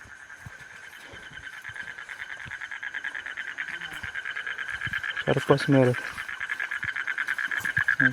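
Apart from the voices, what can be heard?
frog croaking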